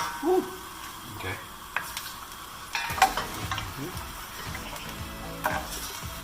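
Shrimp frying in a pan are stirred during home cooking, giving a steady close sizzle broken by scraping and clacking stir strokes, with occasional faint voices.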